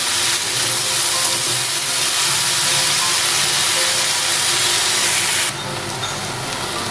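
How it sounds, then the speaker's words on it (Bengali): Chopped water spinach fries over a medium gas flame with a loud, continuous steamy hiss that suddenly drops to a softer level near the end; no one speaks. "শাক থেকে যেহেতু জল বেরোয় তাই গ্যাসের ফ্লেমটা মিডিয়ামে রেখে ভেজে নিচ্ছি।"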